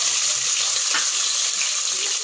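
Onions fry in a pan after fennel seeds for a Madurai mutton curry, giving a steady close hiss of sizzling with no clear breaks and no voices.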